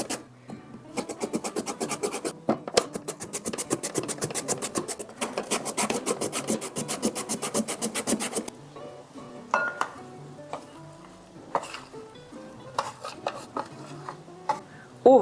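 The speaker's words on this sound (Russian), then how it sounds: "Картофель я натираю последним, чтобы он не потемнел." Raw potatoes are grated on a hand grater for a zucchini dish, with rapid, close, rhythmic rasping strokes for several seconds, then a pause followed by softer clinks and scattered scraping.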